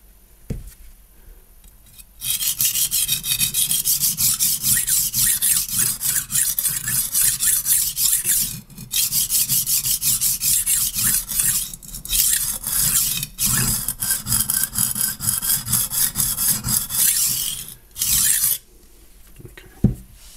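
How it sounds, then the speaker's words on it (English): HORL 2 rolling knife sharpener grinding along a knife's blade edge: a steady, close, loud rasping scrape in long continuous strokes, with brief pauses between passes. "the direction of the grit is sort of constantly changing"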